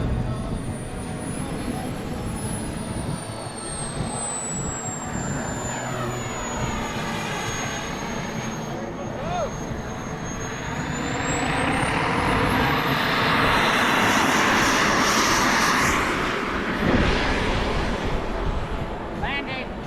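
A radio-controlled P-40 Warhawk model plane with a DA 50 engine buzzes at an airfield, a continuous engine drone with a high whining tone shifting in pitch, growing louder midway, with people talking nearby.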